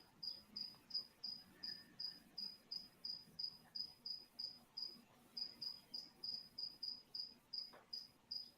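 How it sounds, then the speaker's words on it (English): Crickets chirping in quick, regular pulses, a steady high-pitched trill repeating throughout against an otherwise quiet night background. "The ominous crickets in the background."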